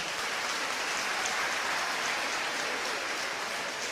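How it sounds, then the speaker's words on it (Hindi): An audience at a speech by the Delhi Chief Minister claps hard on cue, a dense, sustained wash of applause that fills the whole moment with no voices above it. "तो एक बार जोरदार ताली बजाइए"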